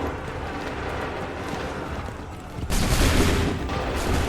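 Musket volley in the video game Assassin's Creed Rogue: a steady battle rumble breaks into a sudden loud burst of many simultaneous shots, then rolls on as a dense crackling roar.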